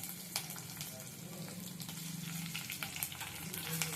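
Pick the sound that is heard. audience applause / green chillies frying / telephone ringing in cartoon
green chillies frying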